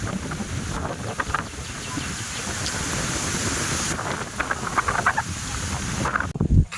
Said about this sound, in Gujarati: ઘડીકમાં તો વાવાઝોડું આવી ગયું છે, એટલા પવન આવી ગયો